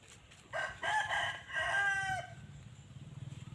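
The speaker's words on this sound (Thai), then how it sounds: "มีทั้งเสียงไก่เสียงนก" A rooster crows once nearby, a clear drawn-out cock-a-doodle-doo at moderate volume over a quiet rural yard, followed by faint low background noise.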